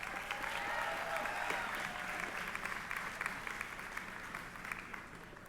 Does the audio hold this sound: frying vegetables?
no